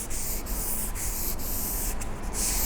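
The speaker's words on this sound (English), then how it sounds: "So just use a little bit of sandpaper." Sandpaper rubbing along a wooden guitar neck gives a continuous close-up scratchy hiss, with brief rhythmic dips as each stroke reverses, steady and fairly loud throughout.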